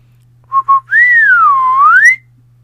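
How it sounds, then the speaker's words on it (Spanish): A loud, clear whistle: two short chirps followed by a long sliding note that dips and rises again, alone over a low hum. "Él irónicamente soltó un silbido"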